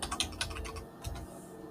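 Quick, quiet clicks of fingers typing on a computer keyboard, a short run of about eight keystrokes followed by a brief pause, close and without voices.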